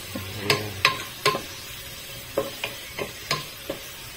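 Tomatoes cooking in a pan for miso sinigang, with a soft sizzle under a series of distinct scraping stir strokes and utensil knocks, fairly close and regular.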